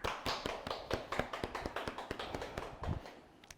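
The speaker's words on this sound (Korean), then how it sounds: "큰 박수 부탁드립니다." Light applause at a Saturday public science lecture on spinal cord injury treatment, with sparse, evenly paced hand claps from a few people. The claps are fairly faint and fade out toward the end.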